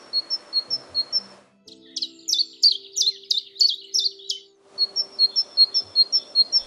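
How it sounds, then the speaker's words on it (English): A great tit repeats bright two-note calls, clear and close, with a chiffchaff-like series of chirps cutting in midway before the great tit's rhythmic notes resume. "So hopefully now you can pick out the great tit by song."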